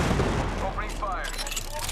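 Gunfire in Apex Legends, a short, dense burst of shots and booms mixed with game sound effects and a voice speaking over it.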